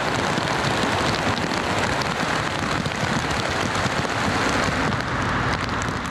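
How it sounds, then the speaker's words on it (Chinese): Heavy morning downpour in a flood-hit village in Hong Kong's New Territories during rainstorm warnings, a dense, loud, unbroken roar of rain falling on surfaces with no voices. "上星期受洪水影響的丁九村朝早亦落大雨。"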